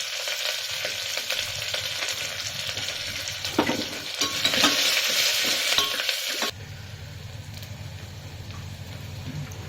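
Sliced onion frying in hot oil with green chilli, ginger and curry leaves, a loud close crackling sizzle with spattering pops that abruptly drops to a quieter, softer hiss near the end.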